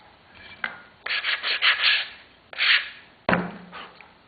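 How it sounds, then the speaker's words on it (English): Sanding strokes across a hardened CA glue repair on a new fender, heard as several close rough rubbing bursts with short pauses between them, alone and without talk. "So when you sand, the CA glue is harder, much harder, so the new fender that you're making is the one that's going to sand down."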